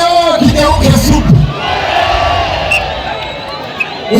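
A comedy show crowd in Rwanda or Burundi cheers and whoops loudly at a stand-up comedian doing presidential voice impressions, then settles into a lower, sustained hubbub of applause and chatter.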